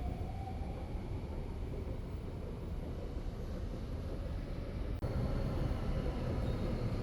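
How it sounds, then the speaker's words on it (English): A Singapore MRT train rumbles steadily into a platform, a broad low roar filling the space, with a slight jump in loudness partway through and no voices. "Soon enough, the train arrived."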